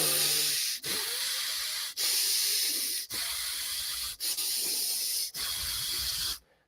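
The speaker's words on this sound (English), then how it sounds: "10 breaths in and out of your nose" Deep breathing in the Tumo style, drawn in and pushed out through the nose from the belly, heard as steady hissing airflow in long strokes with brief pauses between them, close and fairly loud with no talking.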